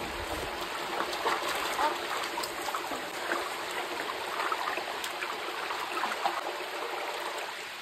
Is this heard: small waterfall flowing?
yes